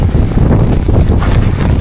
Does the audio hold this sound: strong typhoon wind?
yes